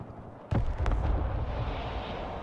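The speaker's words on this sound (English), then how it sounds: "Missile launch there." A missile launch in the video game Broken Arrow: a sharp blast onset followed by a loud, sustained roaring rumble with a second burst, close and dense, with no voices.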